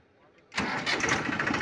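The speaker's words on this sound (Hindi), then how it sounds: "और स्टार्टिंग दिखवाते हैं ट्रैक्टर की।" A Massey Ferguson 241 DI tractor from 2010 cranks and its diesel engine catches abruptly, jumping from near quiet to a loud, steady running roar close by.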